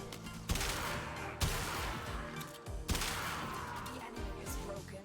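Gunfire in the sci-fi shooter game Warframe, a few sharp heavy blasts spaced a second or so apart, each followed by a long rumbling noisy tail, fairly quiet overall with no speech.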